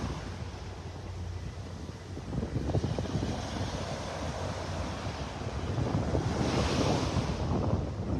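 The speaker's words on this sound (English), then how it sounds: "The tide is coming in." Ocean surf washes onto Vanderbilt Beach in North Naples, Florida, as the tide comes in, a continuous broad roar of breaking waves mixed with gusty wind buffeting the microphone, swelling a little toward the end.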